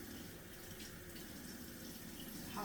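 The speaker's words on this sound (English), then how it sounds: "let me wash my hands again" Tap water runs steadily into a sink while hands are washed in a home kitchen during pastry prep, a continuous close hiss with a brief splashy surge near the end and no talking.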